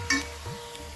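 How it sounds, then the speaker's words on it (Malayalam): Coriander powder and other spice powders sizzle in oil for chicken curry, with a short scrape of stirring in the pan over a soft steady frying hiss. "ഇനി നമുക്ക് മല്ലിപ്പൊടി ഇതിലിട്ട് കൊടുത്ത് നല്ലപോലെ മൂപ്പിച്ചെടുക്കാം"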